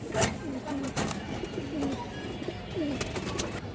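Pigeons at a breeding farm coo softly several times at moderate distance, low rolling calls repeating amid faint clatter and scattered background noise.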